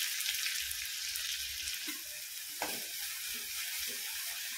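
Chopped onion, curry leaves, ginger and garlic fry in hot oil, a soft continuous sizzle with a few faint stirring scrapes and taps, quiet and close, no talking.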